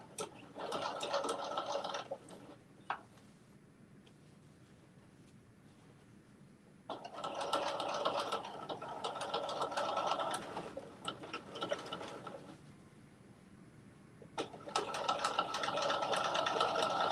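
Sewing machine stitching a zipper pouch in three bursts of rapid mechanical chatter lasting a few seconds each, separated by quiet pauses with faint handling noises, close and fairly soft.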